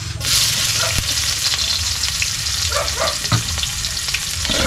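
Garlic and onion sauté in hot oil in a wok for Filipino sinangag fried rice, a steady close sizzle and crackle running throughout with a few scrapes of stirring.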